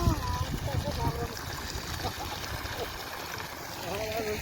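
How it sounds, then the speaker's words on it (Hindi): Water from a hose splashes and trickles onto flowers in a village garden, a soft running gurgle heard under a man's steady speech. "चोई साहब फूल में पानी लगा रहे हैं"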